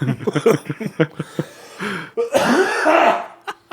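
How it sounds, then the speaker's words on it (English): A person coughs in a short burst of several sharp, close coughs, then gives a longer, rougher throat-clearing cough before a brief pause. "Sorry, I had to cough."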